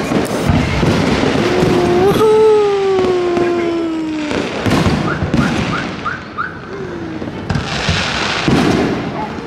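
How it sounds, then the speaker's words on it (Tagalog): Fireworks at a university centennial celebration at Mapua burst and crackle continuously, with rising whistles and a string of quick pops, loud and close. Voices call out over the display. "May fireworks ngayon dito sa Mapua."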